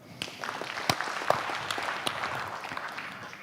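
Audience at an African business summit applauding, with a burst of many hands clapping at once that carries on steadily for a few seconds.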